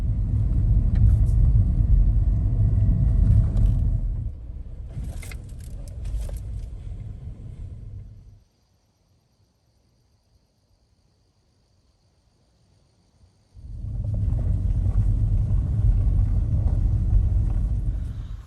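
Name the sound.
car pulling over and stopping by the road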